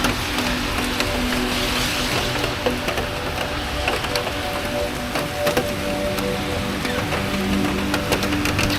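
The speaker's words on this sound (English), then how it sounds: "it's raining." Steady rain pouring outdoors, a dense, even hiss of drops hitting surfaces that holds constant and fairly loud throughout, with no voices.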